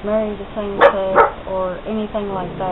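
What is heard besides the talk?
dog barking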